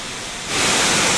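Floodwater pouring through a flooded low-lying settlement in Kirandul, a broad, steady roaring rush like a torrent that swells louder partway through and carries on without any voices.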